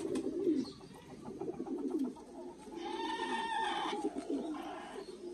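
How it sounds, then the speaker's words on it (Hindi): Rampuri pigeon, a large old Indian breed with a long tail, cooing in repeated low throaty bursts close by, with a softer sustained warble partway through; no talk. "ये आ गया जी बांका कबूतर, जो पुराने इंडियन कबूतर रामपुरी कबूतर हैं बड़े साइज में"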